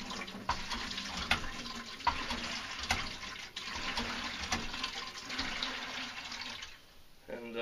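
Drinking water running from a shallow-well tap into a bucket at an off-grid camper in the woods, a steady rushing pour with faint bumps and clatter, then the flow stops near the end and a voice starts.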